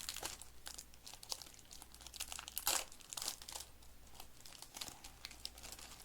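A foil pack of 2025 Topps Pristine baseball cards being torn open, giving close, continuous crinkling and tearing rustles with one louder rip partway through and no talking.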